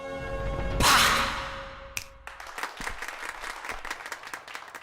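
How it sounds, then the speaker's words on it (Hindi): A small group claps happily in irregular bursts after a loud whooshing swell, the claps quick and close, mixed with some crowd noise. "सुसाइड अटैक की बात कर रहा है और वो खुश होकर तालियां बजा रहे हैं"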